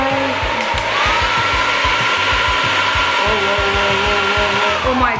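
Hair blow dryer running on its hottest setting with the nozzle pushed inside a plastic water bottle: a loud, steady motor whine and rushing air that holds constant throughout, with a low pulsing rumble underneath.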